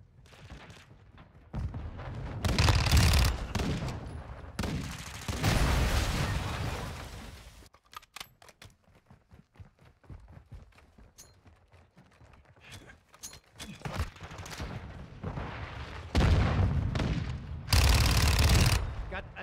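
Loud bursts of gunfire and heavy blasts from grenades in the shooter Modern Warfare 2, arriving in clusters with a quieter stretch of scattered shots between, close and forceful, with occasional voice callouts.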